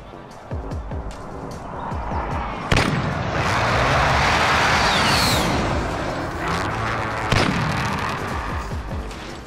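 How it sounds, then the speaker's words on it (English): Precision airstrike explosions rumble through a Call of Duty match on a Baghdad map, a sustained roaring wash of blasts with two sharp, loud impacts standing out near the start and end. "Be advised, friendly precision airstrike inbound."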